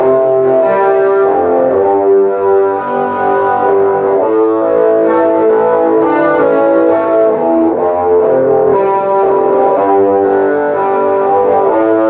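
Heavily distorted electric guitar picks out the riff in steady, driving repeated figures, loud and up close with no talking over it.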